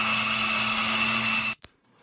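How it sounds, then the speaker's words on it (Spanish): Kitchen blender whirring steadily at high speed as it purées red onion with a splash of water, a loud continuous motor drone that cuts off abruptly, followed by a brief click and silence. "Empezamos licuando una cebolla roja."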